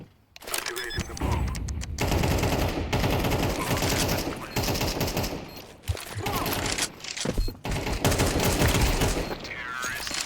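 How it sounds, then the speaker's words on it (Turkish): Gunfire in Counter-Strike 2 rattles loudly and nearly without pause, rapid automatic bursts and sharp single shots crowding together, broken by brief gaps. "Vuruyorum ben."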